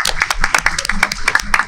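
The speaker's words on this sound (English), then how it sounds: "can we get a hand clap for Trey?" A small group of young basketball players at a Philadelphia team media day claps hands for a teammate, a quick, uneven burst of close, sharp claps lasting under two seconds with a little voice mixed in.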